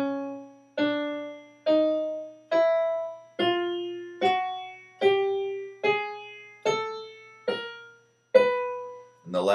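A chromatic scale climbs steadily up a keyboard's black and white keys, with about a dozen evenly spaced notes each struck cleanly and left to decay briefly before the next, heard alone and close.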